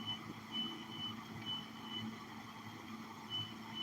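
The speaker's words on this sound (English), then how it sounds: "I think that fucking fire alarm's going off again." An alarm sounds a repeating high beep in regular short pulses, about one every half second, steady and mid-distance over a low rumbling background hum.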